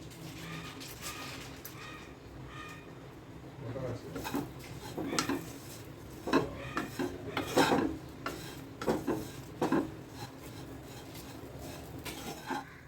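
Fried carrots and beans are tipped and stirred into oats in a pan, with soft scraping and clinking spoon strokes that grow louder and more frequent. Someone talks over the stirring.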